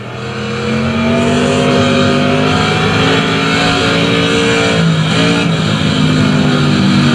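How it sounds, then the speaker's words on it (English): Automobilista Super Truck race engine roaring loud and steady from an in-car view, its harmonic drone holding high with slight pitch shifts and a brief dip as revs change, no talking over it. "So that's Automobilista's super truck."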